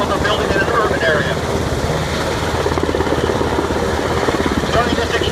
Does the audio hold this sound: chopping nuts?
no